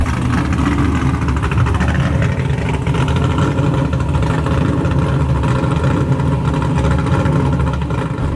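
A loud, throaty Chevy Camaro IROC-Z engine with an LS7 V8 rumbles continuously through chambered exhaust with no mufflers, a raw, unmuffled tone, idling and revving slightly throughout.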